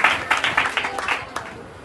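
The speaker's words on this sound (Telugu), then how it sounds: "గట్టిగా చప్పట్లు కొడదాం" Church Sunday school gathering bursts into loud applause, a dense run of claps in repeated surges that slowly taper off, fairly close.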